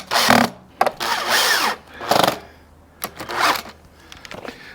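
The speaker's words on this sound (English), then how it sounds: "Get those screws back in." Power tool driving screws back into a part on a Royal Enfield 350 motorcycle during an air filter fitting, heard as several short whirring bursts of varying length with brief pauses between them, close and fairly loud.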